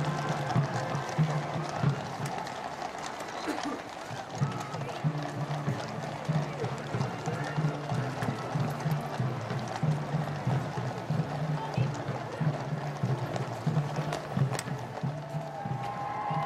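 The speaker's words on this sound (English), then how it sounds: "This is the scene along the Mall as the first carriages approach Horse Guards Parade." Horses' hooves clip-clop steadily along the Mall as royal carriages approach Horse Guards Parade during Trooping the Colour, a rhythmic clatter carrying under continuous commentary and crowd ambience.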